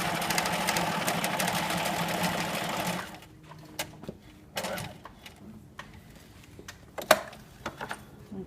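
A sewing machine stitching a fabric frill runs in a steady, close whir for about three seconds, then stops, leaving scattered faint clicks and handling sounds.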